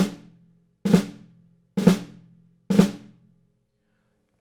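A drum drag rudiment played with a very tight, short spacing between the grace notes and the main stroke: three separate hits at an even, unhurried pace, each one ringing briefly before it fades, heard alone and close.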